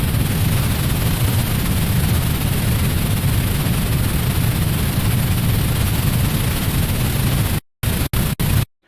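A synthesized rocket launch effect built in Arturia Pigments 4: a dense, loud roar of distorted, hard-clipped noise that holds steady for several seconds, then cuts out in a few abrupt stuttering gaps.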